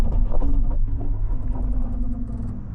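A Toyota Land Cruiser with its turn assist engaged, braking the inside wheel during a full-lock turn, gives off a low, continuous rumble with a droning drivetrain tone, close and steady throughout.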